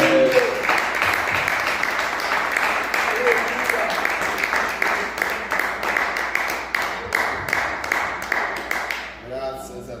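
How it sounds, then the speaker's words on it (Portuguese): A church congregation claps in praise, dense and steady rhythmic clapping filling the room at close range for the whole stretch before it thins out at the end; voices mix in beneath the clapping. "louvando o Senhor com as palmas"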